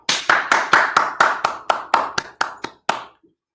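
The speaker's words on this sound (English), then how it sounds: "Give him a clap." A few people in a room give a round of about a dozen sharp, close handclaps that come at an even pace and then stop.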